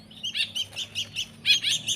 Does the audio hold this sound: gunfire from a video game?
no